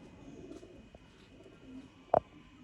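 Sialkoti pigeons at a pigeon-keeping setup, with faint soft coos and one short, louder coo near the end over quiet background.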